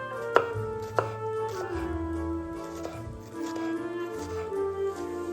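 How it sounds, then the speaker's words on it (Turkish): Olives being chopped into small pieces on a board give two sharp knife knocks at the start, then softer, irregular cutting taps, close by, over a faint tonal hum and no talk. "Zeytinleri minik minik doğruyoruz."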